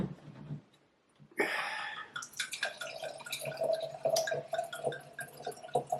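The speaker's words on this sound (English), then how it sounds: "I will pour a proper amount of wine in a glass" Crisp, light-bodied white wine pours steadily into a stemmed glass, a bright continuous liquid stream with gurgling ripples that begins abruptly after a quiet pause and runs for several seconds.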